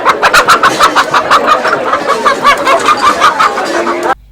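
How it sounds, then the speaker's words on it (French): Local breed hens at a central market poultry stall cluck loudly and continuously in a dense, rhythmic chorus, close by, ending abruptly. "quelques poules de la race locale sont exposées au-dessus des poulaillers garnis de volailles"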